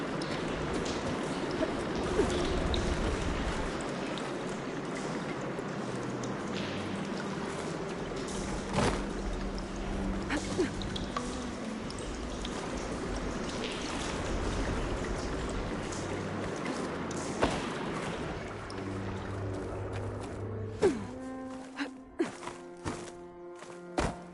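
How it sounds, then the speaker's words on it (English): Water rushing and pouring steadily after a valve is opened in the video game Horizon Forbidden West, a dense wash with occasional thunks and soft game music tones entering near the end. "Gotta open the valve upstairs. Get that water circulating."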